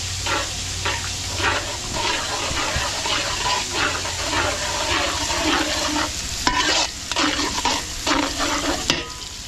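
Garlic and onion sautéing for chop suey, stirred vigorously in a pan with a continuous sizzle and repeated scraping strokes in a rough rhythm, close and loud, with a few brief pauses.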